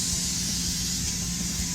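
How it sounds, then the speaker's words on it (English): A steady, close hiss of aerosol cooking spray onto a pan runs continuously for a couple of seconds, with no talking. "Spray the pan."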